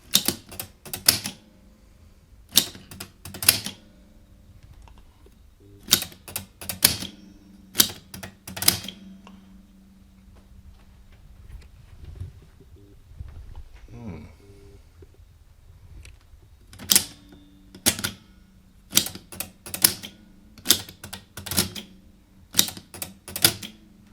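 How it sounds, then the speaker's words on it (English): A jammed VHS video recorder on fast forward, its slipping clutch giving off repeated sharp clicks in irregular bursts with quiet stretches and a low mechanical hum between them, close by with no talking. "I think that clicking noise is a clutch slipping somewhere, which probably means it's jammed up."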